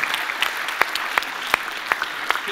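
Audience members clap at a game conference panel, a moderately close, steady patter of applause with distinct individual claps standing out over about two and a half seconds.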